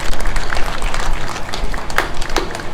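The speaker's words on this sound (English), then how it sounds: "How about a good great applause for Roy Dunn, 3-time champion." Audience applause at a candidate forum for a 3-time champion running for the 3rd District: a dense, steady clatter of many hands clapping, close and loud throughout with a few sharper claps standing out.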